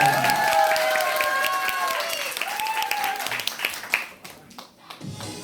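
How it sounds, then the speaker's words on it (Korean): A crowd claps and cheers to encourage a performer about to play the janggu drum at a lively show, with whistle-like tones and voices riding over the applause before it thins out into scattered claps. "박수 한번 부탁드립니자"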